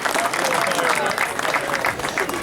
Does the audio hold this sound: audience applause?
yes